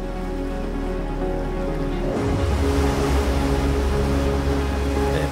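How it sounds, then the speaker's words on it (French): Atlantic surf washing onto the black sand beach at Reynisfjara, Iceland, a steady broadband roar of breaking waves that swells suddenly louder partway through and carries on without voices. "La plage de sable noir de Reynisfjara, bordée par le ressac incessant de l'océan Atlantique."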